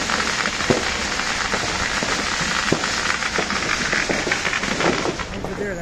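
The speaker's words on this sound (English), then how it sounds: "sounds like someone just lit up a whole pack of 100 firecrackers." Independence Day firecrackers and fireworks go off in rapid, crackling bursts like a long string of pops, loud and continuous with a few sharper bangs, and some voices faintly underneath.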